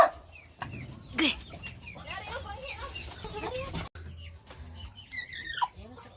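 Chickens cluck and squawk around a rural provincial yard, a rooster letting out a sharp call among scattered nearby clucks, with people talking quietly in the background.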